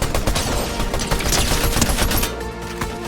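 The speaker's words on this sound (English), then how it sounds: "Oh, and there's firing going on up here." Loud, continuous gunfire in the Fortnite video game, a dense rattle of overlapping shots that carries on for most of the moment before easing off near the end.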